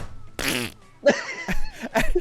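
A voice imitates a fart after a textbook is dropped, making a short buzzy blat followed by chuckling and more spluttering mouth noises.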